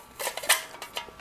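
A small metal alcohol stove pot of about 500 ml handled up close, with a run of light metallic clinks and scrapes as the parts are twisted to lock, and no talk.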